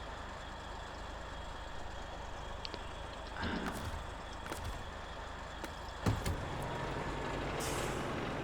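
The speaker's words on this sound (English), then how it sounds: "Sounds like I hear a truck running." A truck engine idles in SnowRunner, a low steady rumble running throughout, with a few hissing air-brake-like bursts and clunks partway through.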